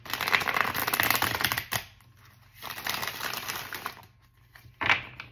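Cards are shuffled up close in three bursts of rapid riffling, with brief quiet gaps between them.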